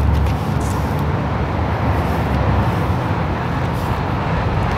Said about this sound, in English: there's a really loud car